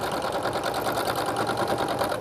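A sewing machine runs steadily while stitching a standard seam on a scoodie scarf with hood, a loud continuous whirring rattle with a fast even pulse and no pauses.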